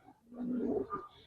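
A large Giribaz pigeon gives one close, throaty coo that swells and fades over about a second, heard alone with no talk.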